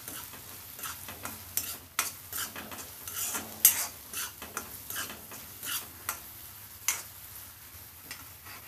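Onion with salt fries in a pan for a bamboo shoot dish while a spatula scrapes and knocks against the pan again and again over a soft, steady sizzle, close by and without talk.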